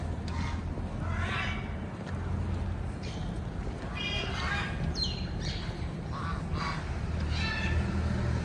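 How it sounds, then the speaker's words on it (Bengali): Geese and small ducks at a small zoo behind New Town Eco Park, scattered quacks and honks over a constant background hum, moderately distant and faint. "এখানে টোটাল 2, 4, 6, 7টা মতো রাজহাঁস আর ছোট্ট ছোট্ট হাঁস"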